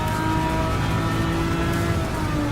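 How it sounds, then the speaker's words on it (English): A steady, loud car engine drone in Gran Turismo 7, fitted with an aftermarket exhaust and intake, holds a constant pitch throughout, a sustained mechanical hum without speech. "I do like what this car sounds like"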